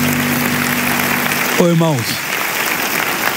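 Steady crowd applause fills a church service, with a voice briefly calling out over the clapping.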